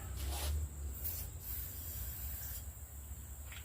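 WD-40 lubricant sprayed onto the cable of a 1990s Snapper 20-inch push mower, a couple of brief hissing bursts over steady background noise, close and fairly quiet, with no talking.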